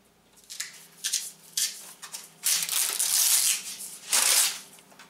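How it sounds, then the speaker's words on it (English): Butyl tape worked around the door opening of a homemade teardrop camper trailer gives close, irregular crinkling, tearing and rubbing noises, building into louder scraping bursts toward the end, with no talking. "I'm going to start my butyl tape here on the bottom and work my way around."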